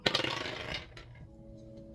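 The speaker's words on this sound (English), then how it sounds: "I'm gonna go ahead and roll the dice." Dice rolled for a tarot-style card reading clatter sharply on a hard surface, a quick burst of rattling clicks that fades over two seconds with no talking.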